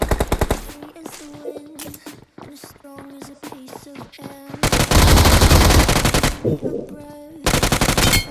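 Gunfire in the mobile battle-royale game BGMI (PUBG Mobile): loud, close bursts of rapid automatic shots with short pauses between volleys, and long sustained bursts near the middle and end.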